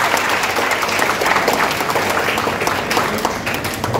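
Applause for three students at a Kamarajar birthday celebration at K.C.S. Kasi Nadar College, a brief burst of close, dense hand clapping from an audience, loud and sustained throughout.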